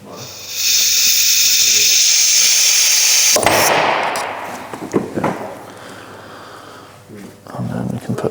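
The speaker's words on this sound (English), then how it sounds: "then we're going to put an airline in there to push the pistons out." A compressed air line blasts into a brake caliper to force its pistons out, giving a loud steady hiss for about three seconds, then a sharp pop and a rougher rushing burst that fades into clatter and scattered knocks.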